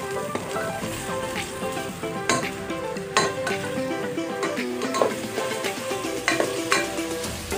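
Beef sautéed in a pan for lomi gives a steady sizzle with repeated stirring scrapes and light utensil clinks, under background music.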